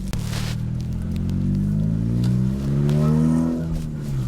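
An engine-swapped Honda Civic pulls away, its loud engine droning with a deep rising tone as it accelerates and eases off, close and continuous from start to finish.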